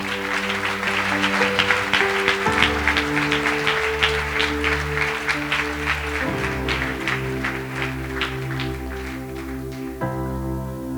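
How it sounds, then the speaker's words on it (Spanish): Congregation clapping during a Spanish-language Sunday church service, rhythmic applause over sustained organ or keyboard chords and low bass notes, filling the room at moderate loudness. "Denle un aplauso al Rey, por favor."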